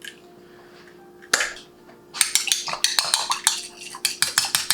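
A whisk or fork rattles quickly against a bowl while mixing egg wash, with a single sharp clink first, then a rapid, close run of clicks and scrapes.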